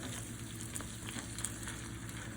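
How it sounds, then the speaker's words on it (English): A sweet Italian sausage sauce bubbles in a pan, with a steady close-up sizzle and a scatter of small pops and crackles throughout. "I'm going to let this just simmer in there for about 5 minutes"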